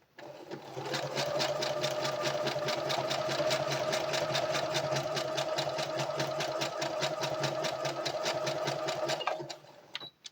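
A sewing machine back-stitches a hair bonnet, its needle running in a fast, even, close mechanical rattle for about nine seconds before stopping.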